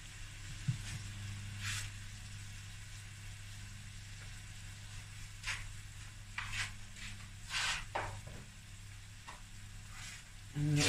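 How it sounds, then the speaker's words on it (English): Cold, cooked, strained basmati rice tipped into a hot pan, bringing a few bursts of sizzling and crackle over a steady low hum, with quieter stretches between. "I'm going to add 3 to 4 cups of cooked basmati rice as per packet instructions."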